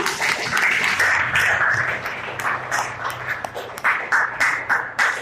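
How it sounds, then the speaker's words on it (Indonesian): A classroom audience applauds a student group after its presentation in a teacher-training session, with sustained clapping and bright overlapping voices and cheers that rise and fall in uneven bursts. "Kita beri tepuk tangan untuk kelompok 3."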